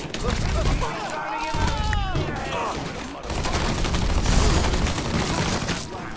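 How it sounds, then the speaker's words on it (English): Heavy gunfire in the Mafia 3 video game, continuous rapid shots and booms from a firefight that runs loud and dense throughout. "So the guns blazing."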